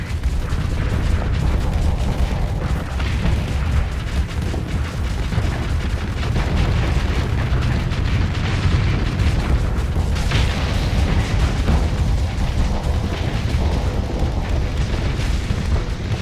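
Torpedo explosions boom through a large fleet battle in the space game Starsector. The heavy, rumbling blasts are loud and continuous, overlapping into one unbroken roar for the whole stretch.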